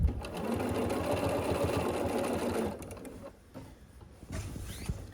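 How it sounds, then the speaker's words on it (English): A sewing machine stitches folded binding onto a quilted tree skirt, running steadily and loudly for a few seconds before pausing and starting again with short bursts. "I'm going to sew this on"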